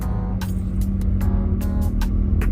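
A 2005 Toyota Vios Type G first-generation facelift sedan drives along a road during a test drive, its steady engine hum and road rumble heard from inside the cabin, punctuated by brief ticking or clicking sounds.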